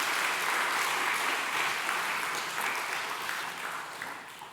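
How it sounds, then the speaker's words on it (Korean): A church congregation at a Sunday worship service applauds in a steady, full wash of clapping that gradually fades toward the end, with no talking over it. "우리 박수로 연행해 주시길 감사합니다"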